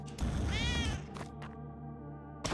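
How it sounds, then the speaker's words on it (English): Cat meowing in the video game Spelunky 2, a single rising-and-falling meow up close, followed by quieter game effects and soft low background sounds. "Let's go ahead and rescue the cat."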